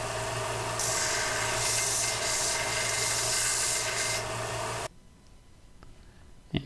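Metal surfaces are scrubbed clean with an abrasive before brazing, a steady close rasping and rubbing that runs continuously for several seconds, then stops abruptly, leaving near silence and a faint knock.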